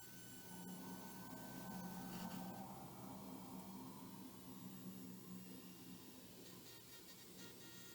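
A polishing rubber rubs steadily across an engraved glass mirror, making a continuous close scrubbing hiss that holds fairly even for several seconds with no voices.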